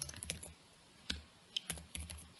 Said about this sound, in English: Just type John